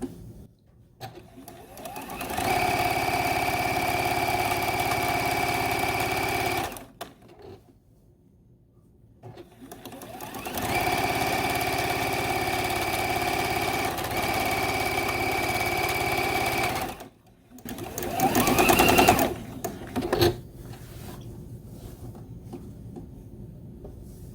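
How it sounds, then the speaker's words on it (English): Home sewing machine stitching along the first block of a quilt row with cornerstones and sashing, in two long steady runs with a pause between and a shorter burst near the end. "I'm going to pinch and hold right there as I'm sewing the length of the first block on the row."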